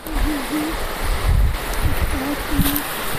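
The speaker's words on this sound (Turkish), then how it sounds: "şu anda görüyorsunuz ki dere çok güzel akıyor" A forest creek flows steadily near a waterfall, its broad rushing wash mixed with wind buffeting the microphone and low rumbles, while a faint tonal warble sits underneath.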